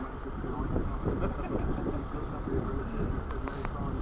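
A car engine idles during a police traffic stop, a steady low rumble that runs throughout at moderate level, with faint background voices.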